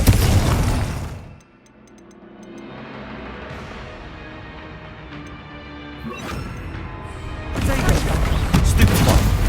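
A Confringo explosion spell goes off in the Hogwarts Legacy video game: a loud crashing blast with a burst and a fading rumble, followed by another loud eruption near the end, over a busy game soundscape.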